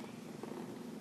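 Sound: cat purring

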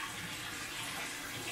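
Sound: water in a baby's warm bath

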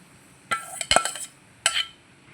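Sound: pounding jaggery in a pot

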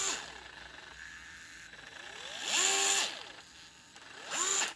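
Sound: DeWalt DCF682 8V gyroscopic screwdriver running

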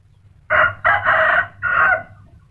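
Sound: fighting rooster crowing

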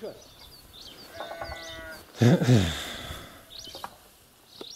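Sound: sheep bleating

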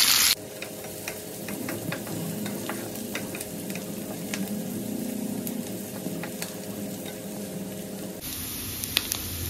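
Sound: onions and garlic frying in a pan

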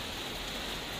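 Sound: rain falling in Pematang Siantar

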